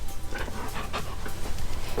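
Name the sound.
dog panting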